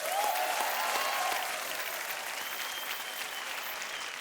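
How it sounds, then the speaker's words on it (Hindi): Studio audience applause on a Hindi game show, a broad wash of clapping that starts strong and gradually softens while continuing steadily, a faint tone running beneath. "तालियां।"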